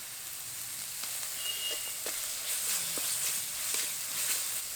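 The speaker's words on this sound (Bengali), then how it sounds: "আদা রসুন বাটাটা একটু ভাজা হয়ে এসেছে" Ginger-garlic paste fries in hot oil for a fish curry, giving a steady, bright sizzling hiss with faint little pops throughout and no talking.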